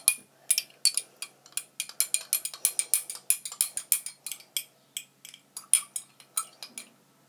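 Slime ingredients are stirred together in a container, making a quick run of sharp, rhythmic scraping clicks, close and evenly paced, with quiet gaps between strokes and no talking.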